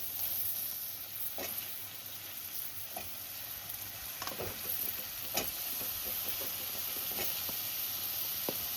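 Chopped vegetables with garlic and ginger fry in a pan for pasta, making a soft, steady sizzle and hiss with occasional stirring taps, fairly quiet and close, without speech.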